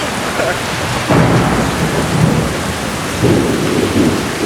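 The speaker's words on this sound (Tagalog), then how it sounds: "Okay, nabagyo na kami dito." Heavy typhoon rain pours down outdoors in the UAE, with two loud thunder rumbles breaking through the steady downpour, close and alone without voices.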